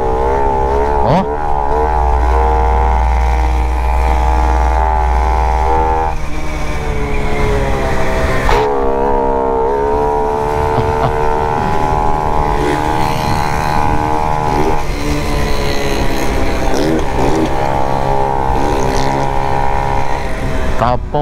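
Honda Pop 110 motorcycle running without an air filter and with a reversed intake hose, its engine droning loudly and revving up and down nearby, with people talking over it.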